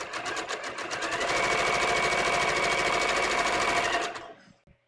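A sewing machine runs a long steady burst of rapid stitches on a swimsuit seam, loud and close, then winds down and stops.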